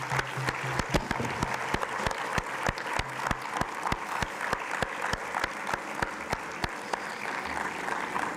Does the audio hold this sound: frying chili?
no